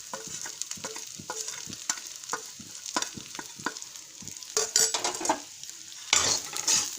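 Potatoes with turmeric and salt are stirred in an oiled pan, a spoon scraping and clinking against the metal in quick irregular strokes over a soft sizzle of frying, close and alone without voices.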